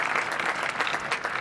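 Steady applause from a graduation ceremony audience honoring new lieutenants of the class of 2021, a dense wash of many hands clapping continuously throughout, fairly close and even in level.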